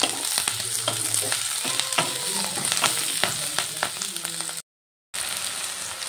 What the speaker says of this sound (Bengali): এরপর দিয়ে দিলাম টুকরো করে কেটে রাখা টমেটো, দিয়ে সব কিছু ভালো করে ভেজে নেব।